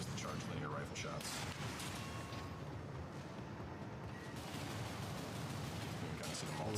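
Charge linear rifle shots and machine gun fire in Armored Core VI, a dense, continuous barrage of gunfire and blasts with a voice talking over it throughout.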